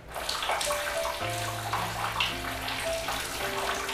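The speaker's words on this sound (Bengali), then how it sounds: "তোমরা দেখলে যে পুরো জলটা পড়ে গেল" Water pours steadily out of a container during a magic trick, a continuous, close splashing stream that stays even and unbroken for a few seconds.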